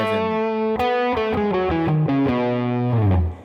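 An electric guitar with a distorted tone plays a seven-note Mixolydian scale, each note picked in turn at a steady pace, ending on a sustained low note.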